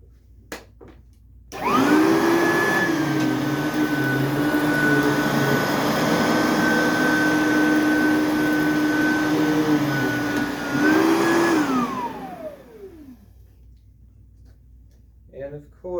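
A lightweight vacuum cleaner runs loudly and steadily with a high whine, spinning up near the start and winding down toward the end before falling quiet.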